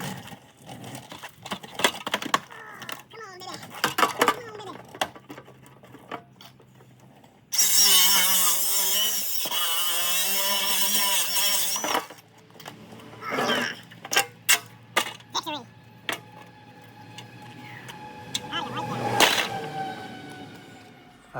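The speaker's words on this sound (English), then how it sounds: "the rocker on the bottom is pretty well rotten, so I'm just gonna kind of rip it apart" Rotten rocker panel on a GMC Sierra Denali being ripped apart by hand and with tools: irregular metallic scrapes, clanks and tearing bursts, including a sustained harsh grinding stretch in the middle, close and fairly loud.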